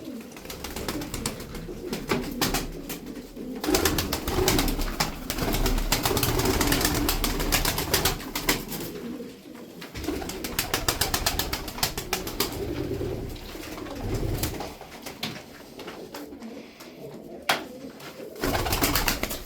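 Pigeons coo softly and repeatedly, with occasional wing flutters and light rustling in the background.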